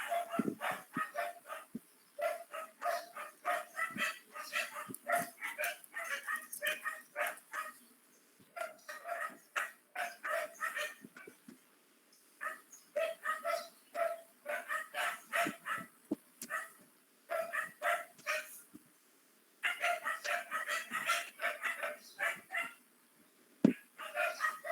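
A neighbour's dog barks repeatedly in short bursts with brief pauses, moderately loud and close, sometimes yipping and whining, with no talk over it.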